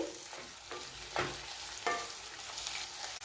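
Ivy gourd (parval) curry being stirred in a pan, a spoon scraping through softened vegetables in several rhythmic strokes over a steady low sizzle, close and fairly quiet with no talking.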